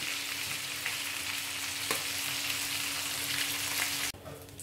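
Chicken pieces searing in a hot pan, a steady close sizzle and crackle running unbroken for several seconds before it suddenly drops off near the end.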